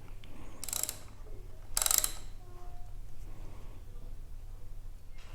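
A nut being tightened on an aftermarket brake and clutch lever of a Kawasaki Versys-X 300 motorcycle, with two short bursts of bright ratcheting clicks over a low background hum, no talking.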